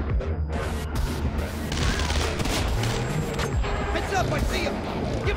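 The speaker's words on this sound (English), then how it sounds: "And then me and this dude have like an epic gunfight." Sustained gunfight in the stealth shooter Splinter Cell Conviction, with rapid bursts of gunfire, sharp cracks and impacts filling the whole stretch densely and loudly, a voice talking underneath.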